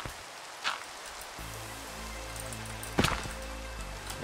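Rain patters steadily in a video game, a soft even wash of droplets with a couple of brief louder splashes, heard alone at moderate level over a low electronic hum.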